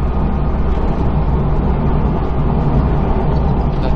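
A Subaru WRX STI VAB cruises at low revs, its engine and road noise forming a steady, loud interior drone with no pauses and no talking.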